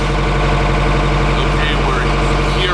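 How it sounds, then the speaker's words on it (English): The noisy motor of a tour boat heading to Caldey Island runs in a loud, steady low drone close by, with a faint voice over it. "The motor of the boat's quite noisy"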